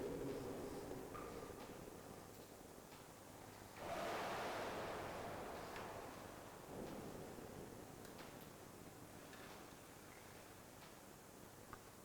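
Water waves produced by a paddle rocking in roll motion inside a 4 m deep-water wave flume, a steady wash of moving water with a louder surge partway through, continuous and fairly close, with no talk.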